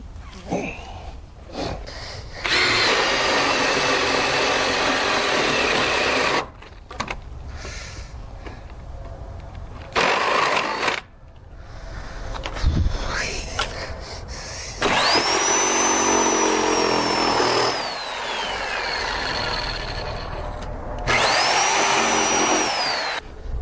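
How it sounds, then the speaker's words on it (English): A Sawzall reciprocating saw cuts a sub sill loose from a triple window, running in loud buzzing bursts that start and stop several times, with its pitch shifting as the blade binds and frees up, close by. "Luckily we've got a little area right there we can get our Sawzall in there."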